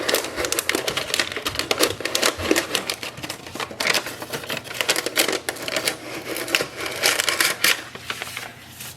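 Jammed paper is slid out of a Canon Maxify GX6021 printer, a steady close run of dense crinkling, scraping and clicking rustles with no talk.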